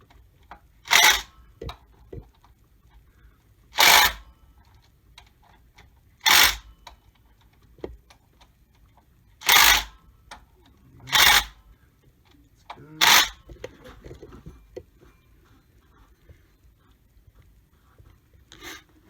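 Pulley bolts being tightened on a Ford 4.6L/5.4L V8 water pump, about six short, separate bursts of ratcheting or tool noise spaced a few seconds apart, close and fairly quiet between bursts.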